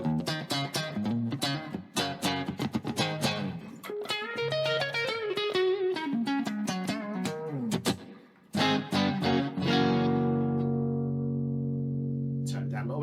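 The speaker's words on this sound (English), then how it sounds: "the first thing we're going to add is reverb" An electric guitar plays a melodic phrase of picked notes and chords with reverb added, notes ringing out and sustaining into a long held chord at the end.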